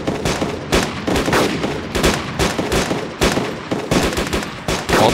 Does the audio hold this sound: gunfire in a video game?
yes